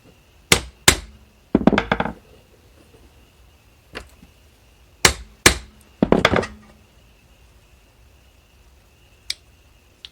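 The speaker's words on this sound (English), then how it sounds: "you want to give it a couple taps on both sides here, and that usually loosens them up a bit" Sharp metallic hammer taps strike a driveshaft universal joint in quick pairs and short clusters, spaced by pauses, loud and close with a faint ringing tone lingering between hits.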